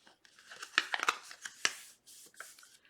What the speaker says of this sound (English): fold those bottom sections in the opposite direction and fold on those side score lines